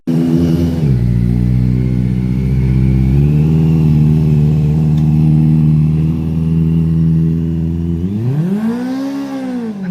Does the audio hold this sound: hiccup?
no